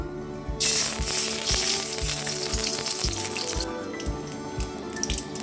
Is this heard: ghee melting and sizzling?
yes